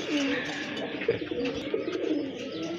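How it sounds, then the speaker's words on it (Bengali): Pigeons cooing at a pigeon market, several low throaty coos overlapping close by over a steady murmur of background noise. "অনেক বড় সাইজের কবুতর, ওটা হচ্ছে আপনার নর কবুতর"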